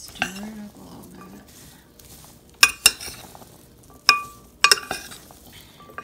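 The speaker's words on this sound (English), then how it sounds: "Stir it up a little bit." Fruit compote is stirred in a cup with a spoon, giving soft scraping and several sharp, close metallic clinks in irregular pairs, with a brief voice near the start.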